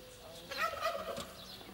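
Turkey gobbling on a rural farm in Silesia: one short, rapid gobble burst lasting under a second, fairly faint and set back in the outdoor background.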